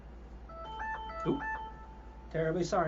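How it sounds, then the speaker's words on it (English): A medicine reminder alarm plays a short electronic melody of steady tonal beeps at moderate volume, and a person speaks briefly over its end. "That's my alarm to tell me to take my medicine."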